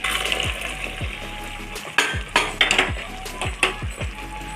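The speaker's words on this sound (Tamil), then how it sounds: "பாகு ஊற்றிட்டு கிண்டணும்." Jaggery syrup is poured into cooked black kavuni rice sweet pongal and stirred in a pot: a close, steady run of ladle scrapes and knocks against the vessel over a soft simmering hiss, with no talk.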